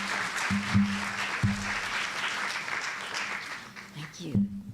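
Audience applause at a dinner theater welcoming a speaker, a steady wash of clapping running the full length, with a voice speaking over it near the start and end.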